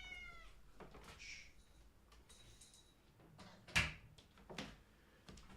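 A cat meows a few times in a quiet room, followed by a sharp single knock of a door being closed and some faint shuffling.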